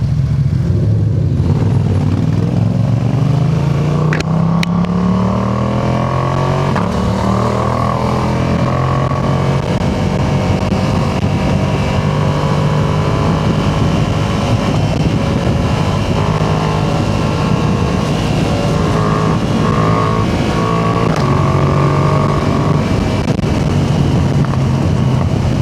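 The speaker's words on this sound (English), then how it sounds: "I think that's my favorite part, is just the downshifts. The downshifts are so much fun." A 2025 Yamaha MT-07 fitted with a quickshifter is ridden at speed, with loud engine drone, falling revs through downshifts and strong wind rush throughout.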